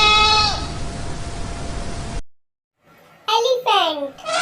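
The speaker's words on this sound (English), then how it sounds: "goat" A goat bleats loudly with a wavering, harmonic cry, followed after a short silence by two more bleats, alone with no other sounds.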